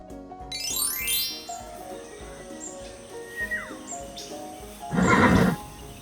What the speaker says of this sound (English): Oh wow! It's a horse!